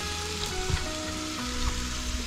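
Bacon fries in a pan with a close, continuous crackle and sizzle that holds at an even level throughout, with no voices.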